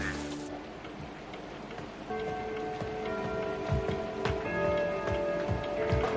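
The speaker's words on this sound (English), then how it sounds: "It's bucketing out there." Heavy rain pours steadily outside, a dense continuous patter on surfaces with scattered drips, while faint tonal background sounds run underneath and no one speaks.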